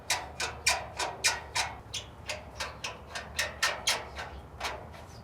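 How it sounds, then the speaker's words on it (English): Bolts on a Camp Chef griddle are tightened with a ratcheting tool, giving a close series of crisp, evenly spaced clicks with no talk. "Let's go ahead and just tighten down those 3 bolts, and that will secure your burners into place."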